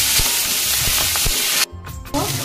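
Ground taro (kachu) leaf paste is stirred into hilsa fish heads in a hot pan, giving a loud close sizzle with scraping stirs; the frying briefly cuts out near the end, then resumes.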